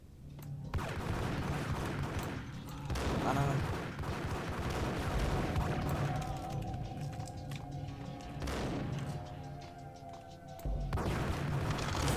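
A double-barrelled gun fires repeatedly in the video game Max Payne, heavy booming shots in uneven bursts amid chaotic action noise.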